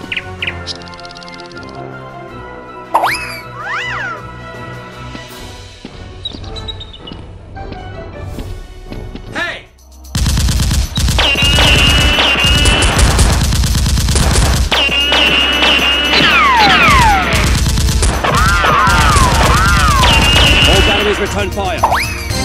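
Nerf blasters fire in a Nerf war inside a game mod, starting with scattered shots over music, then rapid, dense bursts of loud continuous fire with chirping effects and shouted voices.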